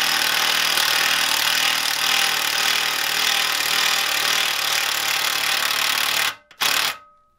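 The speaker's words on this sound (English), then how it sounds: "I'm gonna just slip this hex head bit that's in the drill." A cordless drill fitted with a hex head bit whirs steadily for about six seconds while backing out hardware from a chaise lounge frame, then stops abruptly with a brief final burst.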